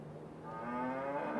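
A beef cow in a farming game gives a single drawn-out moo that rises in pitch, close and clear, with no talking.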